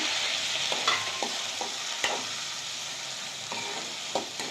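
Onions and three tomatoes frying in a pan for chicken curry give a steady sizzle, broken by the scrape and clack of a spoon stirring every second or so. No one speaks.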